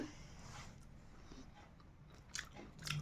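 Someone eats tandoori chicken curry mixed with rice, with soft, close chewing and a few crisper bites toward the end, quiet and without talking.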